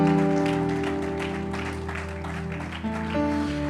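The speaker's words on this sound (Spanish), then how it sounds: "Denle un fuerte aplauso al Señor." A church congregation claps in steady, dense applause, with sustained keyboard tones underneath and a brief swell near the end.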